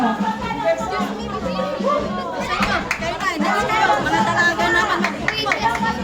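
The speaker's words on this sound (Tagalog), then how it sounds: "Pakinggan niyo yung mga sumisigaw sa gilid niyo." Children shout and chatter close by during a Hampas Palayok pot-breaking game at a birthday party. The noisy crowd keeps going the whole time, with overlapping voices and cheers.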